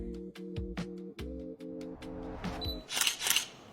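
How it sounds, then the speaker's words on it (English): Rapid run of camera shutter clicks played as a guess-the-sound quiz, a steady burst of sharp clicks followed by a few louder, brighter snaps near the end, with no talking. "Camera shutter."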